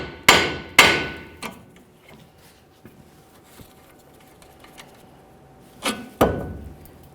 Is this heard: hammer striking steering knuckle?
yes